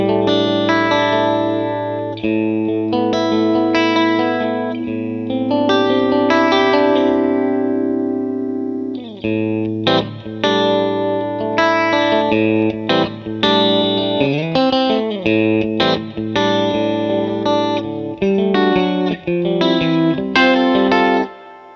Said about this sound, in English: This reverb that they have in this thing, the spring reverb, is awesome.